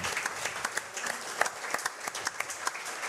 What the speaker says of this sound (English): How about a big round of applause for Coach Drake?